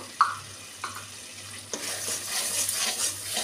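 Turmeric and chili powder are stirred and fried in a pan for jackfruit and potato dalna. A close, steady sizzle is broken by a few sharp spatula scrapes, with no talking.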